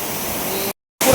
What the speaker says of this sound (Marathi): पाणी आहे हा धबधब्याला.